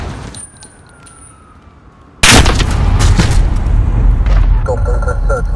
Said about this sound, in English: Missile, go for launch.